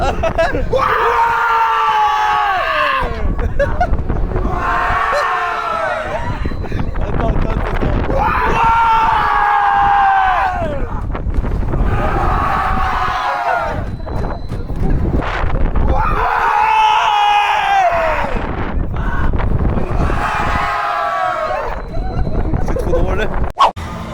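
Riders scream on a pirate ship swing ride at the Bellewaerde amusement park during a summer night opening, loud crowd shrieks rising and falling in repeated surges with each swing, wind rushing constantly behind them.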